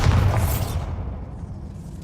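Bombarda explosion spell cast in the Hogwarts Legacy video game: a loud close boom with a heavy low thud that decays into a rumbling tail over about two seconds, alone without voices.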